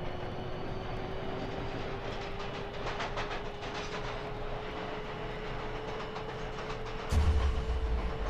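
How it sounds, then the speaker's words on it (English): Train speeding along its tracks, a steady rushing rumble with faint rhythmic clatter throughout and a sudden louder low thump near the end. "why do I feel like the train is going a lot faster suddenly?"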